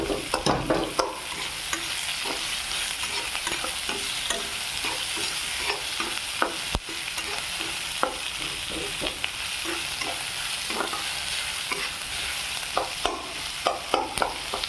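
Onion, beans and carrot sautéing in a pan for vegetable idly upma, a steady close sizzle and fry with repeated scrapes and stirs of a spoon throughout, no voices.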